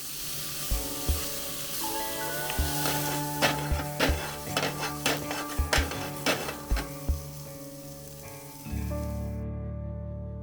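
Camp dinner of smoked sausage, sugar snap peas and brown rice cooking in a pan on a campsite in southern Arizona, a steady sizzle broken by a run of rhythmic scraping and clanking stirs, close and clear.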